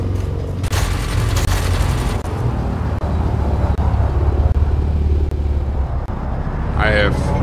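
Four spaceship multi-cannons fire in the Elite Dangerous space game, a dense, continuous rumbling barrage with booming low thuds and mechanical rattle, loud and close throughout.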